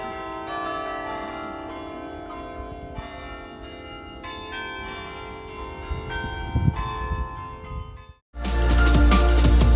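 Belfry bells in the Somme, France, ring in a rich, overlapping peal, strikes layering and decaying, before the sound cuts abruptly to loud rumbling noise near the end.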